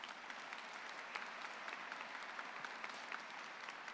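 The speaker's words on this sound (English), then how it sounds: "Let's give them a round of applause," An audience applauds at a nursing school pinning ceremony, dense steady clapping from a crowd held at even strength for the full span with no voices.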